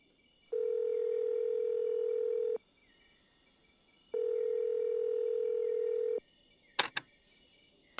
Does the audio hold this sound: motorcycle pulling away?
no